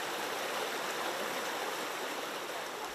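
River stream flowing steadily in Mauritius, a constant broad rushing and hissing of water at even loudness, moderately faint with no voices.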